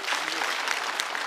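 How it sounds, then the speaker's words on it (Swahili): Audience applause at a live-streamed community broadcast, a dense steady patter of many hands clapping close and loud throughout, with no talk over it. "Makofi ya hiyo."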